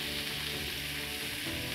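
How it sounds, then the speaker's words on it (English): Shrimp frying in a pan for shrimp scampi, a loud, steady, crackling sizzle that runs unbroken from start to finish, with no talking. "Shrimp cooks fairly quickly, just a couple minutes per side."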